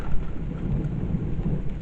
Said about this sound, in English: hear all the thunder and lightning